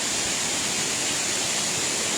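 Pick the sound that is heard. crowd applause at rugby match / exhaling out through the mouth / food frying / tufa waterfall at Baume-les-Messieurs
tufa waterfall at Baume-les-Messieurs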